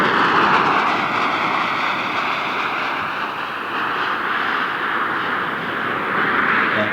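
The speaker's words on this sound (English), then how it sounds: "Columbia's rolling out on runway 33 at the Kennedy Space Center" Space Shuttle Columbia rolls out on runway 33 at the Kennedy Space Center after touchdown, a loud, broad roar of rushing air and rumble sustained steadily throughout.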